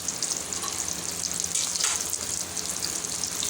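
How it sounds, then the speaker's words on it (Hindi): KFC-style crispy chicken pieces deep-frying in hot oil, a loud, continuous crackling sizzle with dense bright bubbling that holds steady throughout, with no voices. "ये फ्राई होने के लिए तकरीबन 12 मिनट लगेंगे।"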